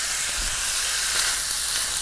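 Chicken frying in melted butter in a hot pan, a loud continuous bright sizzle with crackling and hiss, steady and close, without talk.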